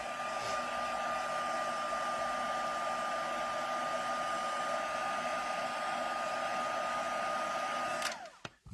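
A hair dryer runs steadily and loudly at close range, blowing to dry ink on a mixed media card, then cuts off abruptly near the end.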